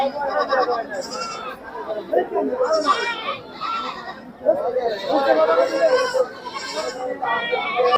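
Several goats, including mother goats, bleat repeatedly at a goat and sheep market in Sirajganj, Bangladesh, with market chatter and nearby voices running under the calls.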